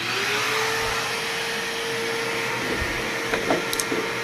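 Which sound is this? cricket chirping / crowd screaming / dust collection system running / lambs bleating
dust collection system running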